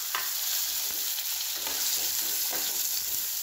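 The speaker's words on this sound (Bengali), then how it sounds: "এখন আমি সেই বেগুন ভাজার তেলের মধ্যেই পনিরগুলো একটু হালকা করে ভেজে নিচ্ছি" Paneer pieces fry in oil left over from frying eggplant: a loud, continuous sizzle with a few soft stirring scrapes.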